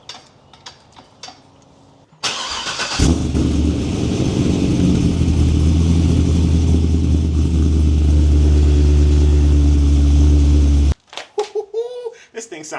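A Corvette engine catches and settles into a loud, deep idle with a rumbling rev at the start, holding strong and close for about eight seconds before cutting off. Brief talk comes before and after it.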